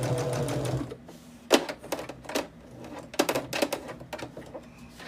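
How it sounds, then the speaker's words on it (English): A sewing machine stitches in the ditch on a quilted bag: a steady run of stitching at first, then irregular short bursts and taps as the fabric is guided, close and moderately quiet. "And now I'm just working on stitching in the ditch."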